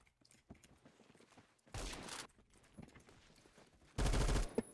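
Gunfire in the first-person shooter game Phantom Forces: two short, loud bursts of automatic fire between quieter scattered shots and footsteps.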